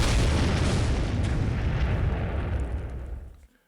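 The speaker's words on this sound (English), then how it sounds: "Explosion." Explosion sound effect: a loud, dense boom with rumbling debris that stays heavy for about three seconds, then cuts off abruptly.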